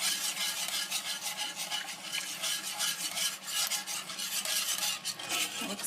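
A spoon or whisk stirs milk into a cooking butter and flour roux for a white sauce in a pan. It makes a steady, close scraping and swishing with a faint sizzle and no pauses or speech.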